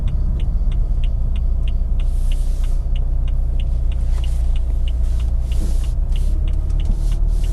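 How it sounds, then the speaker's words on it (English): A 2014 BMW 428i F32 coupe cruises on a daily commute, heard from inside as a steady, loud low road and engine rumble with a faint regular ticking over it, no talk. "Let's take it for a quick spin and see what it's like to drive a 428i"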